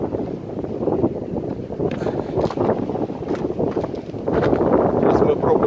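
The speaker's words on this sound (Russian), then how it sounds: "С этой стороны сейчас задувает просто пипец" Strong wind gusts buffet the microphone on a rocky Crimean coast near a sea arch along a cliffside trail, a loud continuous roar that swells toward the end.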